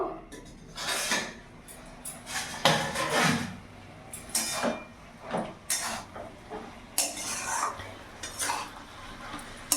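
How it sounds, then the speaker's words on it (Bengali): A lid comes off a pot of fish-head and spinach-stalk chhenchra, with repeated metallic clanks, scrapes and rattles of cookware close by, in uneven bursts over a faint background hum. "আমি এখন ঢাকাটা খুলে দেখবো।"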